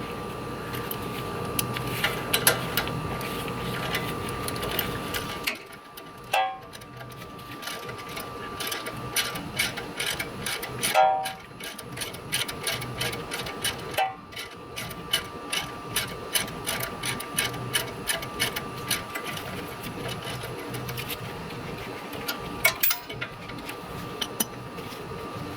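A ratchet wrench clicks in rapid bursts while backing out 12 mm bolts on an Icon stage 2 suspension install, its dense ticking close and repeated, broken by short pauses.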